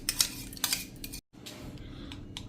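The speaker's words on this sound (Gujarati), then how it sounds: "અને આપણે આ જે પેસ્ટ બનાવી છે ને એ નાખી દેશું" A prepared paste goes into dhokla batter and is stirred in, with a spoon clinking and scraping against the bowl in short, light strokes. A brief silent gap falls midway.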